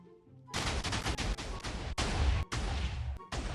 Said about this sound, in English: that was definitely a big TNT explosion too